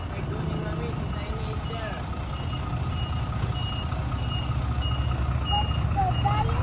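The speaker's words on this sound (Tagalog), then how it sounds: "Be careful ah, there's a big truck guys." A big truck reverses nearby outdoors, its backup alarm beeping steadily over a loud, continuous engine rumble that grows slightly louder throughout.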